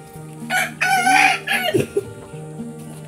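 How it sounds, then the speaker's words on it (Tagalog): A rooster crows loudly nearby, joined by more crowing and clucking from other chickens around it. "Ang daming manok."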